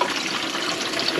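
Water pouring steadily into a pitcher that feeds a Berkey countertop water filter, a continuous close, bright splashing rush lasting about a second with no talk.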